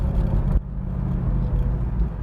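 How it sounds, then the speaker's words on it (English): Exhaust of a 1968 Chevrolet Camaro, a deep steady rumble close by that loudens briefly before settling into an even idle-like burble, with no talk. "we're going to listen to that exhaust a little bit more"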